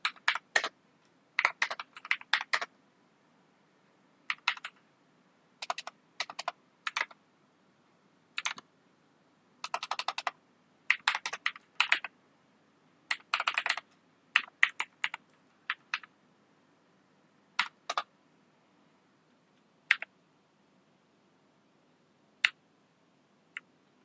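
Computer keyboard typing during data entry, with bursts of fast keystrokes, a few isolated key taps and clicks, close and clear in a quiet room with no talking.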